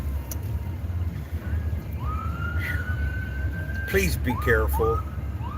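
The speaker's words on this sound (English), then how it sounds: "The ambulance." An ambulance siren wails along a road, rising and sweeping in tone as the vehicle passes fairly close, heard under steady traffic noise while a person speaks briefly near the end.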